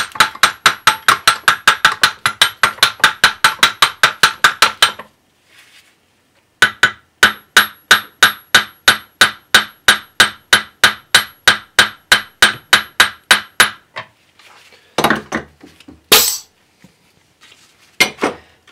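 Hammer taps on a stuck brake caliper piston, metallic and close, fall in a steady rapid series for about five seconds, pause, then resume in a second long run before a few scattered clanks.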